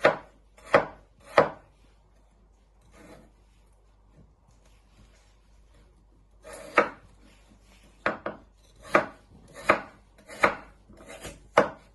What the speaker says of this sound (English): So you just chop them down the middle in half and then into little pieces